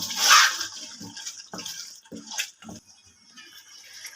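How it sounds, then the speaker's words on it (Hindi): Water poured from a cup into a cooking pot of goat liver and lungs, a short splashing gush at the start followed by a few softer sloshes and drips, close and fairly loud. "हम मज़ीद 1 कप पानी और डाल देंगे ताकि कलेजी जो है वो अच्छी तरह से गल जाए"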